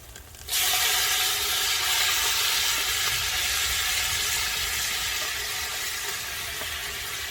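Tomatoes hitting a hot pan on a backyard smoker grill while stewing ribs, setting off a loud, steady sizzle that starts suddenly and holds for several seconds without talk.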